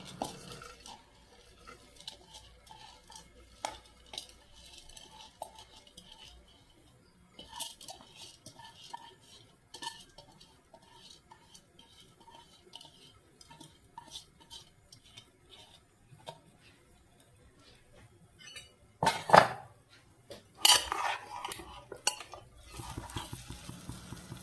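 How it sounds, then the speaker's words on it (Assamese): Washed rice tipped into a pot with a little butter for chicken biryani, then stirred: soft scraping and clinking of a spoon against metal, a louder burst of clatter near the end, no voices. "এতিয়া ধুই ৰখা চাউলখিনি মই ইয়াত দি দিম।"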